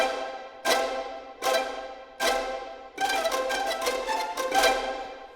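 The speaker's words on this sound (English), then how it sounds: "We have our pizzicato Bartok, which is a very harsh sound" Harsh Bartók pizzicato strings from an orchestral sample library: three separate loud snapping plucks, then a rapid cluster of sharp, percussive snaps, all bright and close with no other sound.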